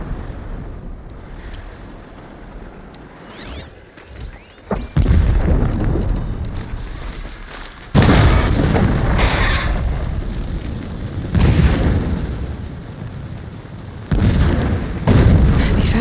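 Heavy booms of distant explosions in the video game Horizon Zero Dawn Remastered, several sudden blasts each followed by a rumbling tail over a low ambient background.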